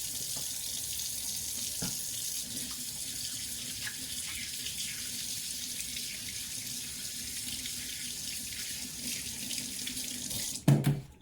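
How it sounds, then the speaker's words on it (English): A kitchen tap runs steadily into a sink while hands are washed, a continuous close hiss of water that ends with a brief louder splash and clatter near the finish, with no talking. "let me wash my hands again"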